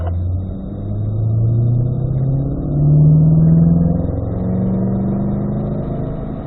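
A Chevrolet C8 mid-engine Corvette drives on a track at the Ron Fellows Driving School, its engine drone loud and steady, rising and falling in pitch as it accelerates and shifts.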